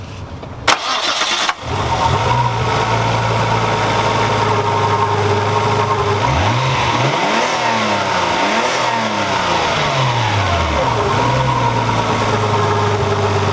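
A Nissan Skyline engine with a blow-off valve cranks and catches, then idles loudly nearby, with a few revs swelling and dropping back to a steady hum.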